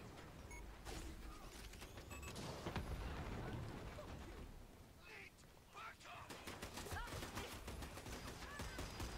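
Semi-automatic gunfire in BioShock Remastered, rapid bursts of shots and impacts mixed with game effects and background music at a moderate level.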